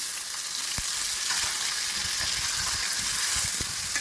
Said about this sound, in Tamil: நல்லா வதங்கணும் எண்ணெயிலே.